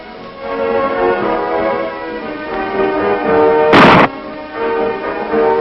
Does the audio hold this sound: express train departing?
no